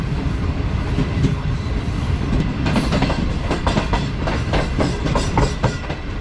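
Shalimar Express train rolling through Rahim Yar Khan railway station, a steady loud rumble with rhythmic wheel clacks growing more distinct over the rail joints, continuous throughout with no speech.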